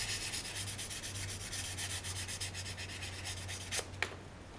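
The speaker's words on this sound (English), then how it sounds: "That's higher grit sanding." High-grit sandpaper rubs over the surface of a resin anime figure in quiet, rhythmic back-and-forth strokes, close up and soft, with a steady low hum beneath and a couple of sharper scrapes near the end.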